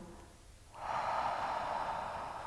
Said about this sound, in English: Let the breath out.